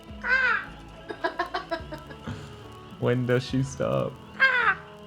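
A voice imitates crow caws, with repeated harsh cawing bursts, loud and close, mixed with short spoken words and a few chuckles during a relaxed livestream.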